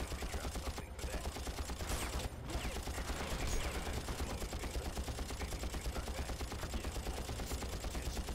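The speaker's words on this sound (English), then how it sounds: "I just shoot everywhere." Rapid gunfire in the video game Far Cry, a dense, continuous stream of quick shots that fills the whole stretch at a steady, fairly quiet level.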